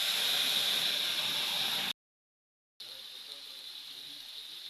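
Ground spice paste hits hot oil with cumin in a pan and sizzles in a loud, steady hiss. The sizzle breaks off for under a second, then carries on slightly softer.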